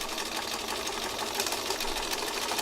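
Continuous whirring of a sewing machine stitching around fabric scraps, a steady, even hum heard alone for a few seconds.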